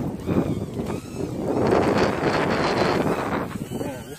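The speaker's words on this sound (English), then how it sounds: "Man, it's cold and windy out here too." Cold wind buffets a microphone outdoors during a pit-tuning session for an SPC Maker 90NG drone, a steady broadband rush that swells mid-clip and stays continuous, with a voice faintly mixed in.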